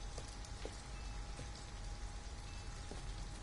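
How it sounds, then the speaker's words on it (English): Rain falls steadily in a scene from the video game Detroit: Become Human, a soft even patter with occasional sharper drops, faint and continuous, with no voices. "At least we'd be out of the rain."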